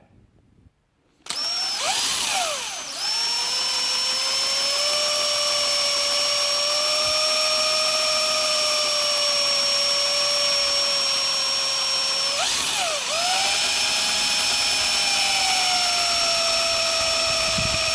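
A power drill drilling holes in knife handles starts up after a brief quiet and whines at a steady high pitch, briefly dipping and revving midway before running on continuously.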